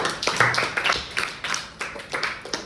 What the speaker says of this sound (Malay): bagi tepuk tangan untuk dia.